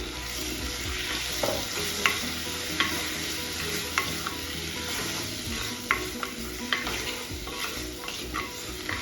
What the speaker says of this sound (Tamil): இதுக்குள்ள நான் இப்போ தக்காளி பழத்தை போடுறேன்